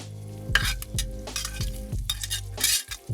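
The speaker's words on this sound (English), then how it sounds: "you see the sizzling away now" Ginger hits hot chicken fat and sizzles steadily, with a utensil stirring and scraping the pan in short repeated strokes close by.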